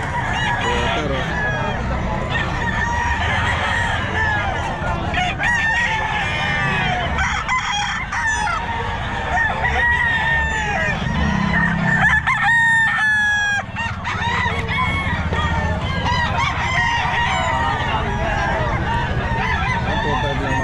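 Sweater gamefowl roosters crow loudly and repeatedly at a busy pet market, the calls overlapping with clucking and steady crowd noise throughout.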